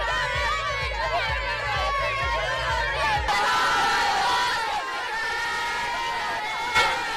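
Crowd noise at a high school football game between St. Michael and Mobile Christian, a steady loud roar of voices and cheering lasting throughout, with a low rhythmic drum beat at the start.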